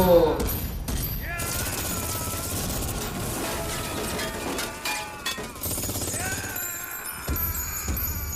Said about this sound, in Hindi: खत्म ही नहीं हो रही गोलियां।